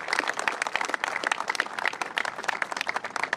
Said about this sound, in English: They truly deserve a round of applause.